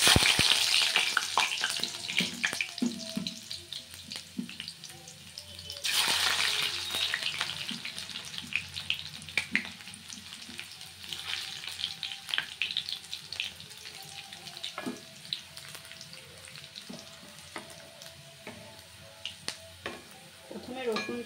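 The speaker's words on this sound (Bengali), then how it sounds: "প্রথমে রসুনটা একটু হালকা করে ভেজে নিতে হবে।" Garlic and dried red chilli fry in hot oil for a Bengali egg tadka, a steady close sizzle with occasional stirring and a brief louder burst of frying partway through.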